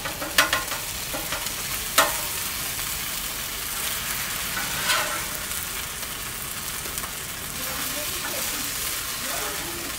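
Carne asada tacos fry in a pan with a dense, steady sizzle, broken by a few scraping clicks as they are flipped, heard close with no talk.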